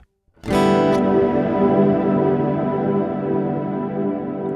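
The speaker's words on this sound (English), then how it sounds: "cloud reverb," One loud chord on a Donner Hush-I Pro electric travel guitar swells into a dense, washy cloud reverb that sustains almost evenly without fading.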